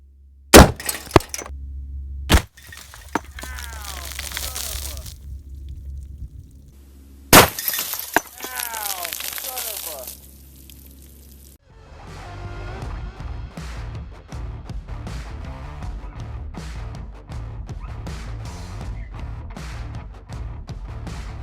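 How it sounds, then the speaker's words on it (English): A gunshot from frangible ammunition smashes a 10-gallon glass fish tank full of water, followed by a loud burst of shattering glass and splashing, then more cracks and a second crash, with water and debris rattling afterward. "So Frangible versus 10 gallons of water in a fish tank with a bowling pin boat that we made."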